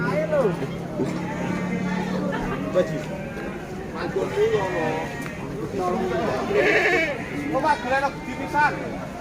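Several goats bleat repeatedly over a noisy outdoor livestock market crowd, with people chattering around them.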